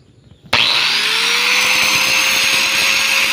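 Welding on a Ford Ranger alternator that has stopped charging starts abruptly after a brief quiet moment. It becomes a loud, steady, crackling hiss that holds unbroken to the end, with no one talking.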